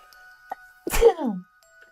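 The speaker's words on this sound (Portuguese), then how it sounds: "Vou espirrar." A single close sneeze, a sharp breathy burst trailing into a falling vocal tone, with faint tinkling in the quiet around it.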